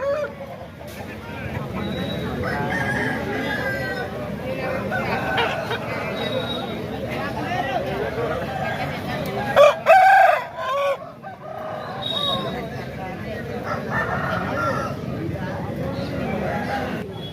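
Country chickens and roosters at a busy Saturday poultry market crow and cluck repeatedly at close range, with one loud crow standing out midway, all under steady crowd chatter and people haggling.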